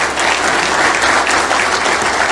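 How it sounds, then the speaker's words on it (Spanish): A church congregation applauds in a sustained, dense burst of clapping that fills the room and continues steadily throughout. "Dele ese aplauso al Señor."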